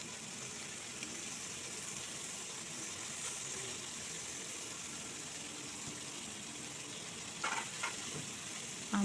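Amudi fish fry in a pan of hot oil for a Bengali dish, giving a steady, quiet, even sizzle throughout, with a couple of light utensil clinks near the end and no speech.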